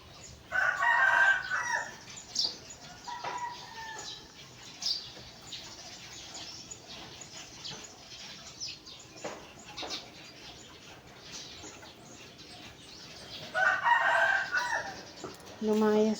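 A rooster crows loudly twice near a simple provincial house, at the start and again near the end, with fainter chirping birds and a voice speaking between the calls.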